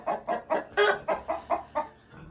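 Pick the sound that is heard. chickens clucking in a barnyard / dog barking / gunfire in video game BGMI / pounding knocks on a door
chickens clucking in a barnyard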